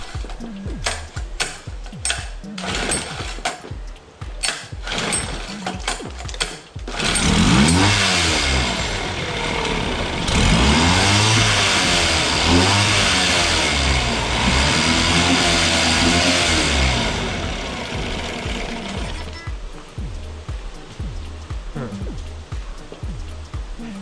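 A small cheap Nissan or Honda outboard motor with a fuel-pump filter issue runs loud and close, first sputtering in uneven chugs, then revving and surging with wavering pitch before settling to a lower idle.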